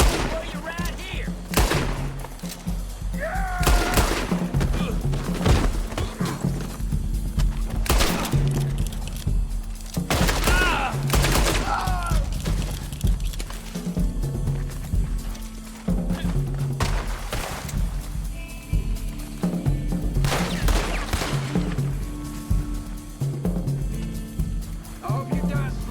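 Gunfire in the Western video game Red Dead Redemption 2 Online: repeated loud shots and bursts scattered through a busy game soundscape, mixed with music and character voices.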